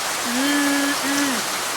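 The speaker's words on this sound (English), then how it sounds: "the rain is pouring. The rain is falling." Heavy rain pours outside with a loud, steady hiss, and a voice sings two drawn-out notes over the downpour.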